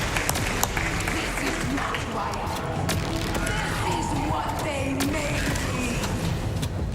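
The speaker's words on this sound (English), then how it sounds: "Yeah, let's do it. Clap for WaifuRuns" An audience applauds at a Games Done Quick speedrun charity event for Halo Infinite, a dense, steady wash of clapping and cheering that lasts the full seven seconds with voices mixed in.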